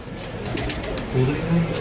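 A broad-bodied pigeon at a Punjabi loft, from a fancier's flock, coos in low soft bursts over steady background noise, the calls swelling near the end of the short stretch.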